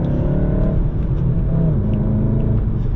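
All-wheel drive car with a manual clutch accelerating, a steady close engine rumble rising slightly in pitch, heard from inside without any talking.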